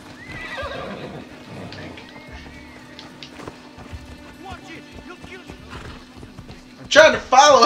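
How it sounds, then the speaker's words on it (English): A horse in the video game Assassin's Creed Odyssey whinnies loudly at the start and again near the end, with faint hoofbeats in between, under intermittent talk and game ambience. "He's just running away on a horse."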